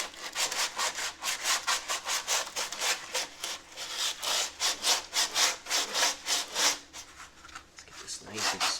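Hand sanding rust off a body panel of a 1965 Chevrolet Corvair, a close, rhythmic back-and-forth abrasive rasp that keeps a steady pace before slowing near the end.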